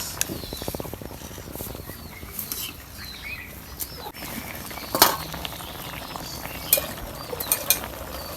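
Magur catfish curry sautéing in a pan in a village kitchen, a soft continuous crackle and patter with occasional metallic clinks of a spatula, moderately close and low in level.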